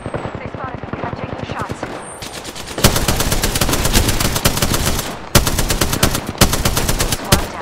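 Rapid automatic weapon fire from an Apex Legends firefight, dense bursts of shots starting lighter then turning loud and sustained, with brief pauses between volleys and a short gap before the firing resumes.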